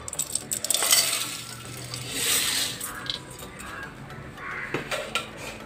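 Crunchy karapusa snack being tipped into a pan of fried peanuts, garlic and curry leaves for cornflakes mixture, giving a close, dry rattling clatter with a few metallic clinks against the pan, no talking.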